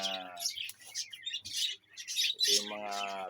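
Birds in a home aviary of breeding pairs chirping and tweeting in short bright bursts close by, while someone talks over them throughout.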